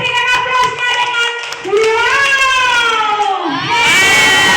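Schoolchildren in a classroom cheer and clap together, loud, close shouting voices rising in unison, with clapping underneath.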